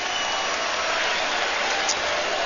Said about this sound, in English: here's the applause as he sits down